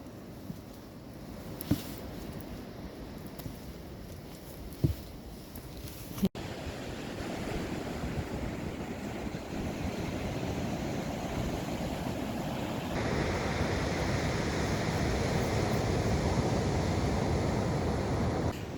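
Ocean surf rolls onto a beach in a steady broad wash, with a few short knocks early on and the rush growing slightly louder later, no voices heard.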